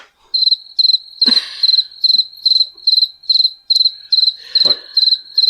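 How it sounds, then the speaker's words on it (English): Crickets chirp in steady, evenly spaced bursts, a bright rhythmic trill repeating throughout, with a couple of faint soft knocks in the background. "Crickets. Crickets."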